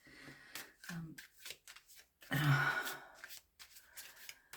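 Tarot cards being shuffled in short riffling bursts, with one louder flurry in the middle, alongside quiet breathing and soft handling noises.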